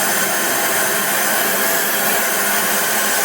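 A torch flame melting platinum roars as a steady, loud broadband hiss, continuous and close with no variation and no talking.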